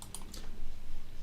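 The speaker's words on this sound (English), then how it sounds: "So I'm just going to type in OUT00, enter," Short burst of typing on a computer keyboard while entering output names into industrial programming software, a few quick clicky keystrokes up close, alone with no talking.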